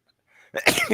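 A single sharp human sneeze bursts out loudly and close after a brief quiet intake of breath, ending within a second.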